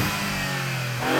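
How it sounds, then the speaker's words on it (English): Maserati GranTurismo Trofeo with a 3-litre twin-turbo V6 revs in a short, loud burst, the pitch climbing near the end of the brief clip, without any voices. "It's a Grand Tourer that has an awesome 3-litre twin turbocharged V6 that sounds like this."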